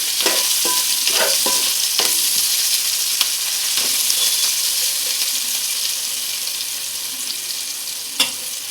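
Mint paste with curry leaves fries in a pan with a loud, constant bright sizzle, broken by occasional scraping stirs and one sharper clink near the end.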